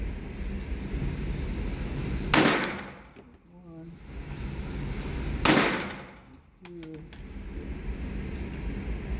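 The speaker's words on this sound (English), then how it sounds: "I need a lot more practice with a pistol to quit this anticipation" Two loud pistol shots from a Ruby pistol a few seconds apart, each a sharp close blast with a decaying echo, followed by metallic handling clicks and a brief voice between.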